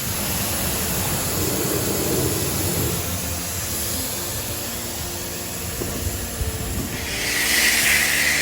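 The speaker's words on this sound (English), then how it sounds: "The rinse down with the pressure washer." Pressure washer spray rinsing a dirty Mini Cooper, a steady loud hiss of water jet against the car that holds throughout and brightens near the end, with no talking.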